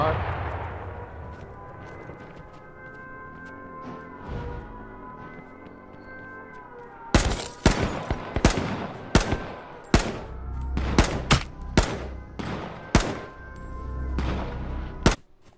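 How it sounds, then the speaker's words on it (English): Rapid bursts of AR rifle gunfire in a video game, a quiet stretch of low game ambience followed by a loud run of sharp shots in clusters. "I was shooting way back there with that AR, huh?"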